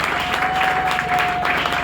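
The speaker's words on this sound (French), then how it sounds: "Vous l'applaudissez pour ça." Audience applause at a Senegalese political gathering, dense crowd clapping filling the room at an even level, with a faint steady tone running beneath it.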